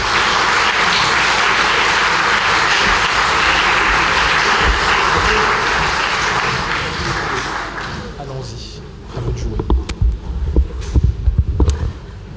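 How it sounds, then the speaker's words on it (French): Audience at a stroke symposium gives a warm round of applause that holds steady, then fades out, followed by a few close thumps and handling noises. "je crois qu'elle mérite quelques applaudissements."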